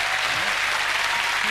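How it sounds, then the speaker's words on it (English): Studio audience applause on a TV variety show, a dense, even wash of clapping with a voice briefly heard beneath it. "let's have a nice round of applause for the totally restored Lily Savage"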